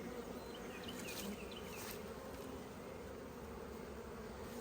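Honeybees buzzing during an open hive inspection, a steady, close, continuous drone of many bees with a few louder passes of individual bees flying near.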